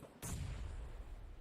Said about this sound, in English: Cooking up a nade for Stevo this time.